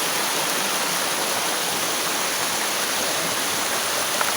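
Creek after rain in the late afternoon: a steady, broad rushing of flowing water, constant and fairly close, with no voices.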